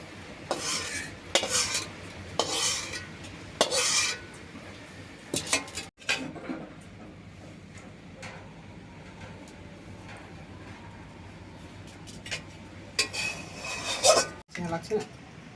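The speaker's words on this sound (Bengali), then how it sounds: "আমি এখন অন্য পাত্রে ঢেলে দিচ্ছি" Cooked food is tipped from a kitchen pot into another pot, with a few sharp metal clanks and scrapes of a utensil at first, then a steadier soft scraping and shuffling over a low background hum.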